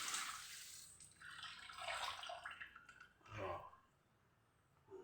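Water runs and splashes into a washing machine filling to rinse a bra, a broad gushing wash that swells and fades with a couple of surges, fairly close, with no talk over it.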